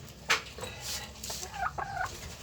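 Chickens cluck and call inside a small backyard poultry coop, a few short close squawks and rising notes over a faint steady background.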